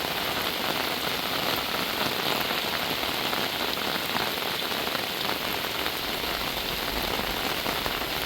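Heavy monsoon rain pours down steadily in a village, a dense, even roar of drops hitting surfaces close by with no pauses and no voices.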